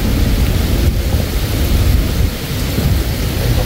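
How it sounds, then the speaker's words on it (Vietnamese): Heavy rain pours steadily outside during a river trip on an inflatable boat, a loud, continuous broadband wash with deep rumbling undertones and no speech. "Bên ngoài cũng mưa luôn"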